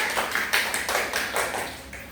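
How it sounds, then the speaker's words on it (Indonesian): A small classroom group of students claps for a classmate, a brief scattered patter of light, uneven hand claps lasting about two seconds. "Beri tepuk tangannya."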